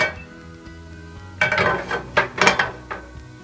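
Pav bhaji being cooked in a large pan on a gas stove at medium flame: a metal utensil clanks and scrapes against the pan in several sharp bursts over a low steady hum.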